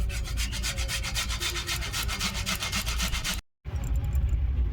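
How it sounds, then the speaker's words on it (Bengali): A ripe tomato is rubbed quickly against a metal box grater in a home kitchen, giving a steady run of close, loud rasping strokes in a fast rhythm, broken by one brief pause before the grating picks up again. "একটা টমেটো নিয়েছি এটা গ্রেটারের সাজিয়ে গ্রেট করে নেব"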